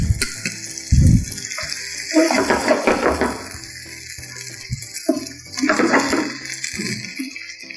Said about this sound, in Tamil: இதில் கொஞ்சமாக தண்ணி, லைட்டாக தண்ணி சேர்த்துக்கிறோம்.